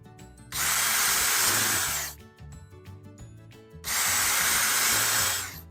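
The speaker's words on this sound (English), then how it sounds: "set it up, drill a hole" A power drill whines loudly through two steady bursts of drilling holes for barstool assembly, separated by a short quieter pause.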